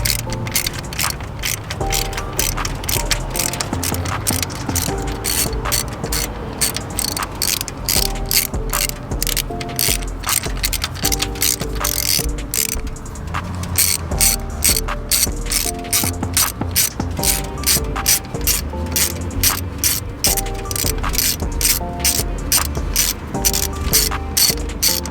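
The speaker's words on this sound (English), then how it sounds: "take out this little bolt right here with this 5/8 deep socket" Hand ratchet with a 5/8 deep socket turning a small bolt while fitting an oil catch can on a Dodge Charger Scat Pack, a rapid continuous clicking of the pawl in bursts, close and loud, with no talking.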